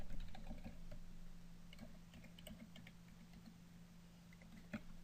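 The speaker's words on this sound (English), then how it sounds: "if my fingers could type on the right keys here" Fingers tap on a computer keyboard during data entry, with quiet, irregular clicks over a low electrical hum and one sharper keystroke near the end.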